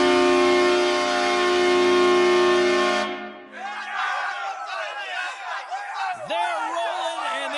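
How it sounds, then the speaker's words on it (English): Home crowd in an NHL 2026 hockey game roaring and cheering in a loud sustained wash, preceded by a long steady horn blast that cuts off, then rising whoops and a sharp whistle-like cry. "the crowd is popping off, paying tribute for what they recognize as 10 straight wins here at home"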